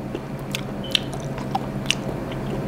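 Close-up chewing of seared (aburi) scabbard fish sashimi, soft moist bites with a few faint crunchy clicks over a steady background hiss, no talking.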